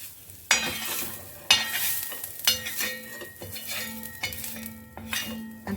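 Onion roasting until reddish in a pan, stirred with a utensil, for Konkani kombdi vade masala: repeated scraping strokes and clinks of metal on the pan over a soft, steady sizzle, close by, with no talking.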